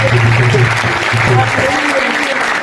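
Brief burst of audience clapping at a Hindi-speaking Christian gathering welcoming Jesus, steady applause over a low hum with a voice faintly present beneath.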